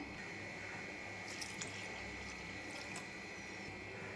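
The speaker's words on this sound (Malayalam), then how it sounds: "ഇനി നമുക്കിതിലേക്ക് ആവശ്യത്തിന് വെള്ളം കൂടി ചേർക്കാം" Water poured into a pot of lentils: a steady, continuous stream of liquid, fairly quiet and even, with a few faint splashy accents and no talking.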